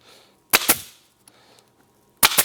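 Two pairs of sharp, punchy clacks as a staple gun fires staples into the seat riser area under the storage compartment of a Ski-Doo REV snowmobile, close and loud with quiet gaps between.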